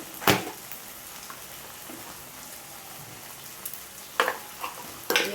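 Salt, chili powder and turmeric sizzle in hot oil, a steady close crackle with a few sharper spatters and stirring bursts standing out at intervals.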